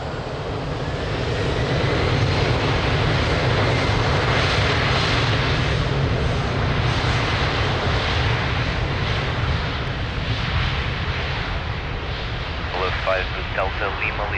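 A TAP Air Portugal airliner's engines roaring during takeoff from runway 02 at Lisbon Airport, a loud, sustained broadband rumble that swells and holds, with radio voices heard faintly.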